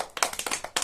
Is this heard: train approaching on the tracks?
no